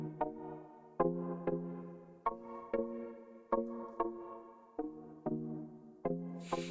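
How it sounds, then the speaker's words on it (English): A key pizzicato synth patch from Spire, panned left, plays short plucked notes alone in a loose vamping rhythm, each with a sharp attack and quick decay, for an Afro Dancehall beat. "key pizzicato, and it sounds like this by itself"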